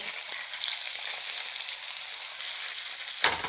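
Fish fries in hot coconut oil in a pan, sizzling and crackling steadily, a continuous frying hiss with a brief sharper spatter near the end.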